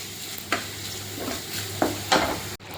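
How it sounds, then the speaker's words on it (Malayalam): Five or six chopped small onions frying for duck mappas, a steady close sizzle broken by several sharp stirring scrapes and clinks against the pan. "അപ്പോൾ നമ്മുടെ ഉള്ളിയൊക്കെ നല്ല പൊരിഞ്ഞിട്ടുണ്ട്."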